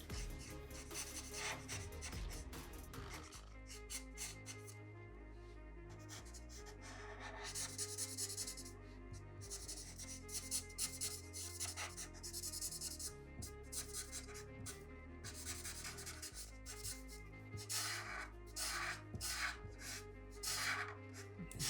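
A chisel-tip marker pen filling in a drawing of Mysterio on paper, with repeated close scratchy rubbing strokes that come in bursts with short pauses between them.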